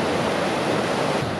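A mountain river near Elbrus at Dzhily-Su in winter, among frozen waterfalls: a steady, close rush of flowing water forming an even broadband hiss throughout, with no voices.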